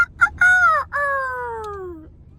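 A rooster crows once, nearby and loud, its call rising in short bursts and then stretching into a long falling note, with no talk over it.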